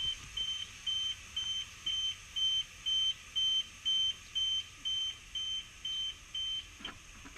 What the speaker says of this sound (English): The car thinks it's getting stolen. The alarm's going off.